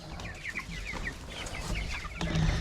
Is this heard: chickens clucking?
yes